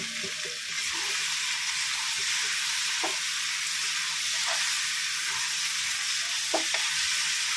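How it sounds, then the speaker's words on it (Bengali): Pointed gourd and potatoes frying in oil in a pan for a prawn dish: a steady, loud broadband sizzle throughout, with a few soft scrapes of stirring. "এবার আমি পটলটা দিয়ে একটু কষিয়ে নেবো"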